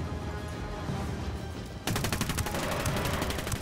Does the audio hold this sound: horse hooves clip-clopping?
no